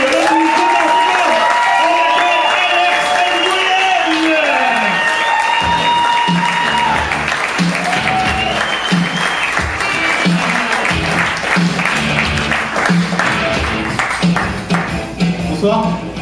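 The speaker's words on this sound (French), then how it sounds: "une applaudissement, ovation," Audience applause and ovation for an Asian stand-up comedian arriving on stage at a Paris comedy show, loud dense clapping with cheers, while a host speaks early on and the crowd noise continues under further voices.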